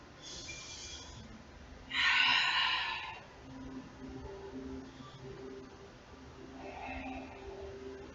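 Slow yoga breathing, close to the listener: a soft inhale, then a louder, longer breathy exhale, followed by quieter breaths over a faint hum.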